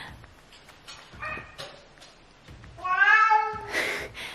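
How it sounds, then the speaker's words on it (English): A cat meows a few times while playing with something in a hallway, one drawn-out, wavering meow standing out clearly, with faint rustling and shuffling around it in a quiet room. "The cat is playing with something in the hallway."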